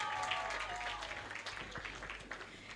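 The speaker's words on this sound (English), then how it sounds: "Can we clap for them" Audience clapping for presenters on a stage, a steady wash of applause from a crowd filling the whole short stretch at moderate volume.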